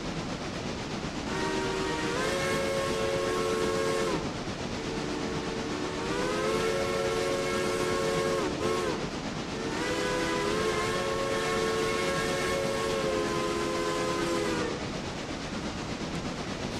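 A C&IM A-1 American 4-4-0 steam locomotive in the Railroader video game sounds its chime whistle in three long, loud blasts over a steady rumble of running gear.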